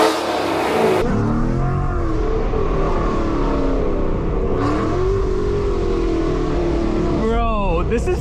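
A very loud Mustang GT accelerating hard through city streets, its engine roaring and rising in pitch over several seconds, with a second surge near the end and voices briefly audible.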